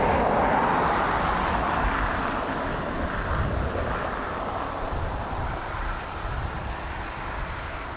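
Ryanair airliner arriving from Malaga at Dublin Airport, a broad steady engine roar at moderate distance that holds evenly throughout without voices.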